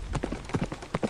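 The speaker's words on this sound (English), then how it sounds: "It's the horse." Horse hooves clip-clop steadily at a walking pace, a run of close, moderately loud hoofbeats over a low background rumble.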